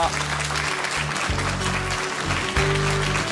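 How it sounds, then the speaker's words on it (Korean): An audience claps steadily to welcome a guest speaker at a lecture, a sustained round of applause with a slight surge near the end and no clear talk over it. "박수로 맞이해 주시기 네, 바랍니다"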